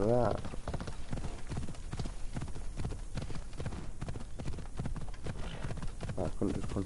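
Hooves of a galloping horse in Assassin's Creed Odyssey beat in a steady, fast clip-clop rhythm throughout, with a brief whinny at the start and game music or ambience underneath.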